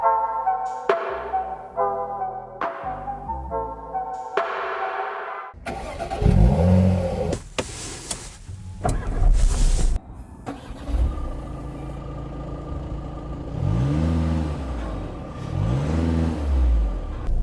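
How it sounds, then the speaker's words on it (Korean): Dashboard chimes ring in a tonal sequence, then a 2020 Volkswagen Tiguan 2.0 TDI diesel SUV engine cranks and catches, settling into a rumbling idle with a couple of light revs. "자, 이제 주행을 위해 시동을 걸겠습니다."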